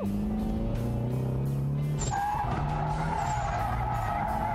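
Drift car tires screeching in a long, loud skid over a roaring engine while the car slides through a drift section on an off-camber hill.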